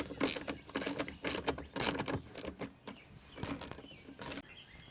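Small ratchet working a 7 mm bolt on a Cadillac XT5 cargo sill plate, a series of quiet close clicking bursts in an uneven rhythm.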